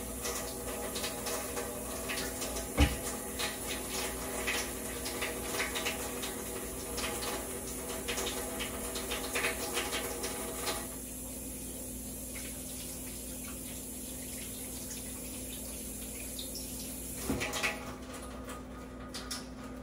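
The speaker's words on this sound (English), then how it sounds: "let me wash my hand again" Hands being washed under a running kitchen tap, a steady hiss of flowing water with rubbing and splashing, briefly changing tone as the hands move in and out of the stream, with a couple of knocks.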